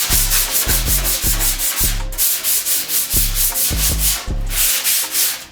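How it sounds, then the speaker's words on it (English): Soft hand sanding of surface rust with 80 grit sandpaper during a custom restoration, heard as a steady series of rhythmic rasping strokes, close and fairly loud, with no talking. "now we're going to take our 80 grit paper, and I'm going to do some soft sanding, nothing really hard"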